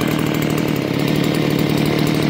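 A new chainsaw idles steadily and loudly nearby, its engine droning evenly without revving or cutting.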